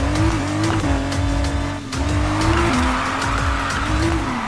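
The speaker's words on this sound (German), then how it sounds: "Cooler Drift." Tires squeal steadily as a car drifts in the Need for Speed Heat racing game, a loud, continuous screech over a revving engine drone that dips briefly near the middle.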